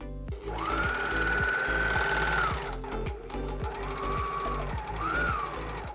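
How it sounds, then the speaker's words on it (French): An overlocker serges the selvedge edge of a fabric piece for a garment, running in a fast, steady mechanical whir for several seconds, with a brief pause and a second burst, close and alone. "je viendrai surjeter toute la lisière qui elle ne sera pas cousue avec une autre"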